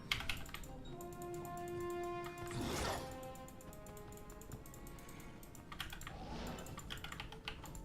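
A computer keyboard clatters with quick, quiet clicks from fast typing during a game session, mixed with faint tonal game sounds and a couple of brief louder bursts of keystrokes.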